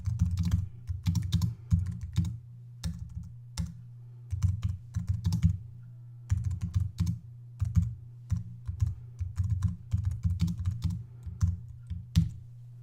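Fingers tap out a post on a computer keyboard in quick, irregular bursts of soft close keystrokes with brief pauses between phrases.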